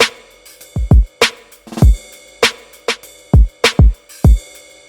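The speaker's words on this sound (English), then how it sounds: "So these drums, they work really well with these hi-hats." Programmed hip hop drums in FL Studio play alone: punchy kicks and snares in a syncopated pattern, with crisp hi-hats ticking steadily across the top.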